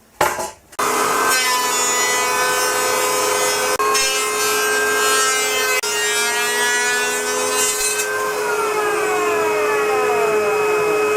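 Steady, continuous rasping of a hand plane and sandpaper worked across wooden boards, scraping in long strokes with faint tonal ringing, close up and without any talking.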